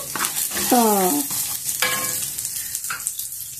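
Peanuts and green chillies fry in a pan with a close, busy sizzle and scraping stirs, broken by short squeaky rubbing sounds from the pan or utensil.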